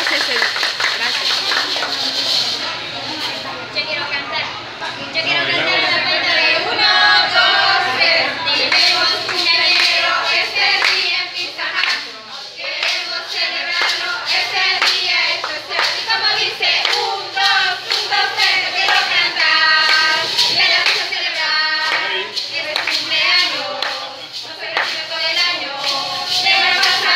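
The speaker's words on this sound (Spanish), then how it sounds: "démosle un aplauso a Nelson" Applause and clapping from a crowd at a child's eighth birthday party, honoring a boy named Nelson, carrying on steadily for nearly half a minute with voices chattering and calling out over the claps.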